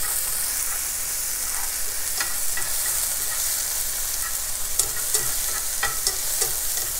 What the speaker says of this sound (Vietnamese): Rồi mình xào khoảng chừng 2 phút